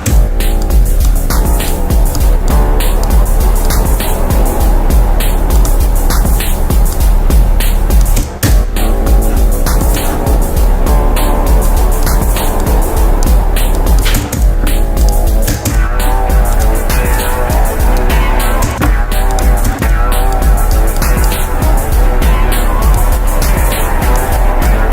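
Ambient electronic music with added reverb plays continuously and loud, a steady layered drone with sustained tones and a repeating pulse throughout.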